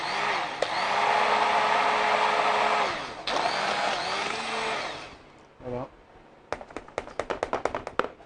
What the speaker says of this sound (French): Je donne un coup de mixeur.